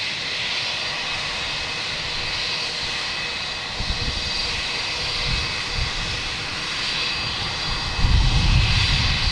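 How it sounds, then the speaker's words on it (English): Etihad jet airliner taking off at Boston Logan Airport, a steady, loud engine roar that holds throughout and swells with a deeper rumble near the end. "So Etihad should be next for a takeoff"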